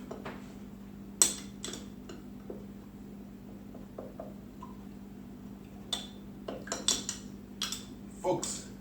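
Spoon clinking against a glass or jar while stirring honey with water into a syrup for a Gold Rush cocktail, a few scattered sharp taps and scrapes over a low steady hum, close by and fairly quiet.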